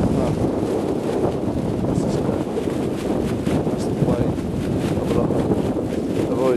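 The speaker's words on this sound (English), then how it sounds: "That's the sort of wind that got up when I was flying." Strong gusting wind on an exposed hillside during a hike, buffeting the microphone with a continuous loud roar and something rattling in it, with occasional voices underneath.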